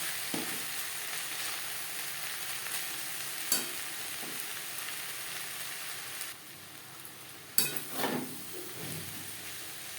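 Long beans and bottle gourd peel are stir-fried in a pan, a steady quiet sizzle broken by occasional sharp clinks and scrapes of the spatula against the metal.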